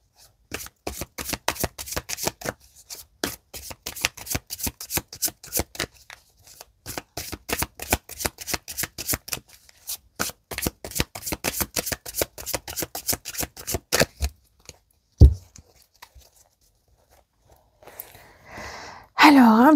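Tarot cards shuffled by hand for a cross spread, a long run of rapid, crisp riffling bursts in an even rhythm, close and clear, ending in a brief thump and a short voice.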